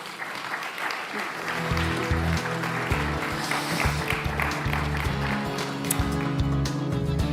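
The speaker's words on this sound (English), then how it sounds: "Perhaps another round of applause" A conference audience at an opening plenary claps in a sustained round of applause, many hands blending into a steady roar for several seconds, with faint speech and low tones underneath.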